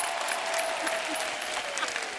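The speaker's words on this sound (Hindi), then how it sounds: "जोरदार तालियां हो जाए" An audience applauds, a steady wash of clapping from a crowd that continues evenly for a couple of seconds.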